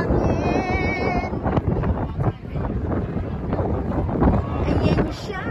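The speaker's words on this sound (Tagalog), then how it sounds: "Hangin!" Heavy wind buffets the microphone outdoors in a loud, continuous roar that gusts and dips, while a voice speaks over it briefly.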